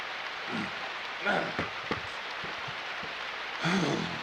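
Rain pours over an NFL football field during a Cardinals versus Jaguars game, a steady broadband hiss with faint crowd noise and brief thumps rising and falling.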